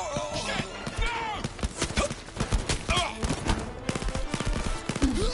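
Rapid bursts of gunfire in the Blood and Truth VR shooter game crackle in dense, overlapping volleys throughout, loud and close, with frantic shouting voices mixed in.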